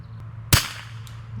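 A single sharp rifle shot from a Tikka T1X firing Federal ammunition at an outdoor shooting range, a loud close crack with a short decaying tail over a low steady background hum.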